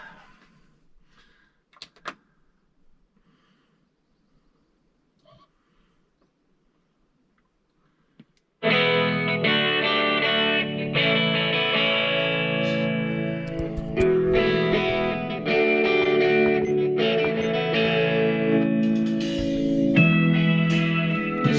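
After several seconds of near silence, music starts playing steadily through an unmodified tab trailer speaker, muffled and flat-sounding with little bass, continuing without talk to the end.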